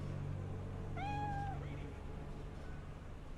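A hairless cat in the video game Cyberpunk 2077 gives a single clear, rising meow over a steady low in-game hum, with no talk over it.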